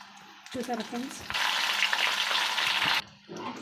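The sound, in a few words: tempering spices frying in a pan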